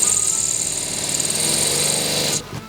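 A rotary tool sands down a stone setting on handmade jewelry, buzzing steadily at close range for a couple of seconds before shutting off abruptly near the end, with no talk.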